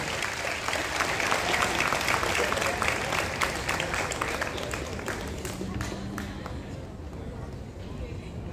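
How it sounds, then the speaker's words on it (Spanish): An audience at a school graduation ceremony gives sustained applause, a steady dense clapping from a large crowd that fades gradually, heard at a moderate distance. "Un muy fuerte aplauso para estos reconocidos estudiantes representativos de esta generación."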